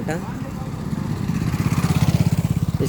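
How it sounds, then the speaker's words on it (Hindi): Motorcycles pass through a village, a mid-pitched engine growing louder and pulsing rhythmically as it nears, with someone talking over it. "देखियो ई सब बाइक जते छै"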